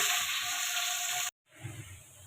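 Onions frying in oil until golden for beef pulao give off a steady, bright sizzle that cuts out briefly partway through, then resumes more softly.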